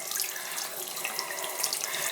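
Hot water running steadily from a household tap, a continuous hiss and splash heard close up with no voices.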